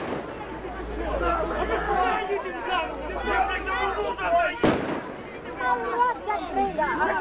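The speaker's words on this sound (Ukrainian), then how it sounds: "Біля воріт міськвідділу почали кидати димові шашки," Outside a city police station, protesters chatter and shout in a constant crowd hubbub, with one sharp firecracker bang bursting through midway.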